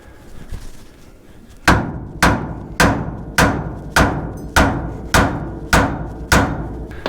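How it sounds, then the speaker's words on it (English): Nine sharp hammer blows ring out on a metal brake part at an even, steady pace, each strike loud and close with a short ringing decay. "Pop a couple wraps with the hammer."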